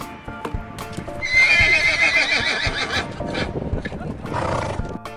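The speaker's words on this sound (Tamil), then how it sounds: "இந்த அக்கா குதிரைக்கு எப்படி தாண்டணும்னு சொல்லி தராங்களாம்." A horse being taught to jump by a woman clip-clops over the ground and lets out a loud, shrill whinny, its hooves knocking irregularly before and after the call.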